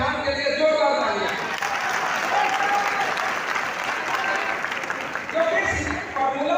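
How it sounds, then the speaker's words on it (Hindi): Loud, sustained applause from a university audience on Teachers' Day fills the whole stretch, dense and steady clapping with crowd noise, greeting a BPEd final-year student named Prashant. "बीपीएड फाइनल के प्रशांत के लिए जोरदार तालियां"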